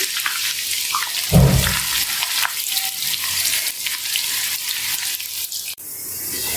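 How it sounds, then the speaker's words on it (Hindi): Oil sizzles steadily as onions fry in a pan until golden, with a brief louder clatter near the start and constant hissing throughout. "प्याज को सुनहरा होने तक फ्राई करेंगे।"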